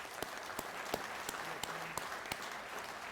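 Scattered applause from a convention audience at an American Legion department gathering, sparse individual claps fairly quiet and distant, brief and thin rather than a full ovation.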